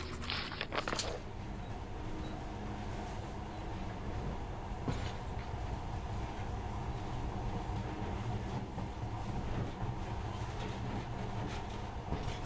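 A monorail train runs steadily in the video game Metro Last Light Redux, a continuous rumbling rail drone with faint clacks and a brief rattle at the start, loud and close with no talk.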